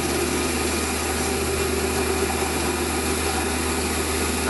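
Metal lathe turning down small engine heads to a stepped shoulder, a steady continuous whirring machine drone with broadband cutting noise, close and loud throughout with no pauses or talk.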